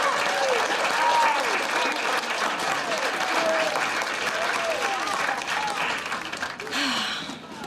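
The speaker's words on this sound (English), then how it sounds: "let's give our Cooper a round of applause" A school assembly audience claps in a steady, dense round of applause that lasts the whole stretch and thins slightly near the end.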